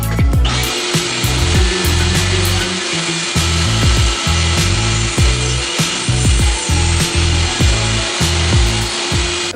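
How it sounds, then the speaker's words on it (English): A power saw trims the long edges off a wooden end grain cutting board, a loud, continuous whining cut close by, with a steady rhythm of knocks and rubbing thumps running underneath. "now I'm gonna cut off the long edges,"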